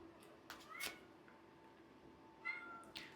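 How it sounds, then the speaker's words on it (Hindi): House cat meowing indoors, two or three faint short meows spaced out over a low steady background hum. "मेरी कैट इस रूम में बहुत ज़्यादा म्याऊं म्याऊं कर रही है"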